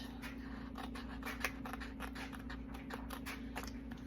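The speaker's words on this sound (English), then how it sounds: "I think I'm just going to use scissors for that." Small scissors snip through printable paper stickers for a creative journal in a quick, even run of crisp cuts, each soft and close, over a steady quiet background hum.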